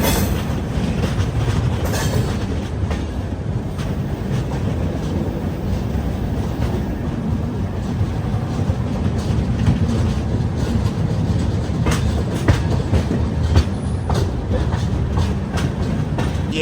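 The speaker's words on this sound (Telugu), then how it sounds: "చాలా స్లో వెళ్తుంది బండి" Grand Trunk Express, an old Indian passenger train, rolling slowly along the track, with a steady loud rumble and rhythmic clickety-clack of wagon wheels throughout, heard from inside the coach.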